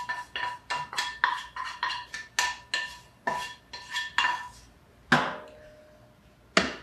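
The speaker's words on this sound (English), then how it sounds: "Now my pan has some like egg stuff in it. I'm just gonna try to scrape out some of that because it'll burn." Egg residue is scraped out of a hot skillet while shrimp fried rice is being cooked. About a dozen brisk, rhythmic metal-on-metal strokes come close and clear, followed by a couple of sharper, isolated scrapes. No one talks.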